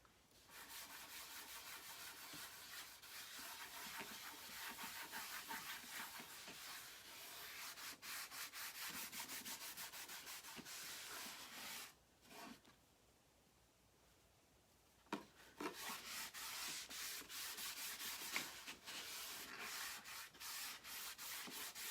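Minwax natural wax is rubbed onto a wooden craft piece in brisk, close scrubbing strokes, broken by a short pause partway through before the rubbing starts again; soft and steady, with no talking.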